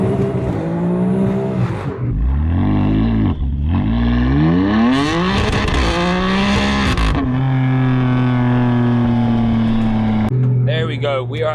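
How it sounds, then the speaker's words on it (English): BMW F80 M3 fitted with a Scorpion exhaust, driven hard with loud rising and falling revs through several gear changes, then a steady droning cruise, with people talking inside the car throughout. "We just had the exhaust installed, and I'm not gonna lie, it actually sounds insane."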